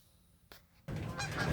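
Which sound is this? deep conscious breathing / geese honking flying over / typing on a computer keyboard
geese honking flying over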